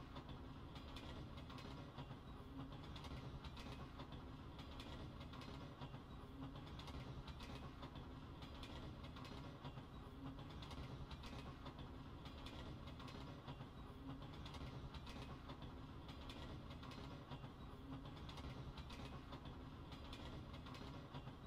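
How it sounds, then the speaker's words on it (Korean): A train in VRChat rolls along with a constant low rumble and a rhythmic clickety-clack of wheels on rails, steady and unbroken. "The train will soon be departing."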